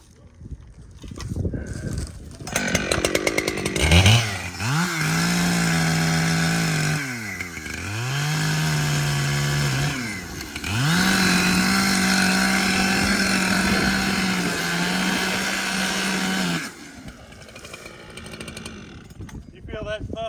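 A chainsaw felling Bradford pear trees outdoors, revving up and bogging repeatedly through long close cuts, the engine dropping and rising in pitch between passes before idling off, with people talking around it.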